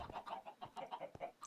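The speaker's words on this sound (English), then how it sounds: "16 chickens in here again." Sixteen adult chickens packed in a cell in the video game Minecraft give off quick, overlapping clucks in an uneven patter, close and moderately loud, with no speech.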